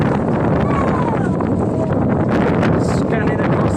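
Strong wind buffets the microphone on an open upper deck of the P&O Arvia cruise ship, a loud continuous roar with gusty surges while a voice talks over it.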